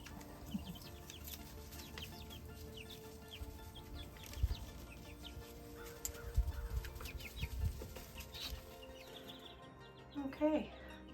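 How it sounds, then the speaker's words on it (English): Six-week-old chicks gathered under a heat plate cluck and peep softly, faint and intermittent against a quiet background. "it's time to get these chicks taken care of, which you can't see because they're all under the heat plate right now"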